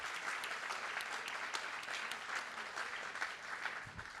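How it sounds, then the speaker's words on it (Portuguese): An audience at a book fair event applauds author and filmmaker Ugo Giorgetti, a steady, fairly faint roomful of clapping that lasts throughout. "Eu peço palmas ao Hugo Giorgetti"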